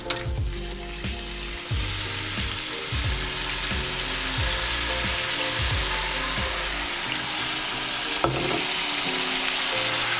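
A Bresse chicken sizzles loudly and evenly in a hot pan on a Napoleon barbecue while vin jaune goes in to deglaze, with occasional clicks of a utensil and no talking.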